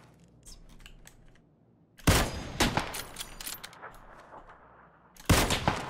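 Bursts of rapid gunfire from a weapon in PlayerUnknown's Battlegrounds, a loud volley at about two seconds rattling on for several seconds, then another sharp burst near the end, over quieter clicking background.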